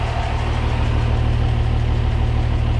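Expedition vehicle engine idling on waste vegetable oil, a loud, steady low rumble with an even knocking pulse, close and continuous with no voices.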